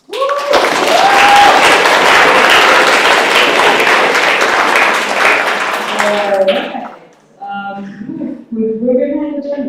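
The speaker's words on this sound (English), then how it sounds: "So yes, a huge applause to all of you." An assembly audience at a carnival-themed national meeting in Köln bursts into loud, close, sustained applause for about seven seconds, then the clapping fades as a voice begins speaking over a quieter room.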